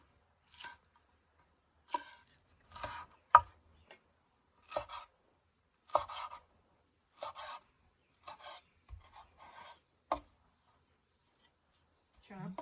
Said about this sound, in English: to chiffonade my green onions and my cilantro and have them ready to go at the end.